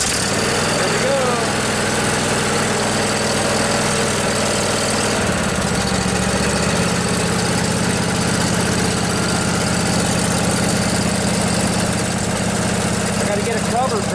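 A Briggs and Stratton Intek Twin riding lawnmower engine, salvaged from a junkyard and just restored, runs steadily and loudly at close range, with a shift to a lower, rougher idle about midway.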